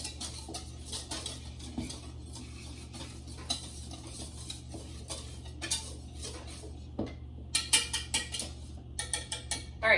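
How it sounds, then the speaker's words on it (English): Brownie batter being whisked in a bowl, a steady busy scraping and clinking of the whisk against the bowl, fairly soft and continuous, picking up into quicker, sharper taps toward the end. "Now you're just going to whisk that together a little bit"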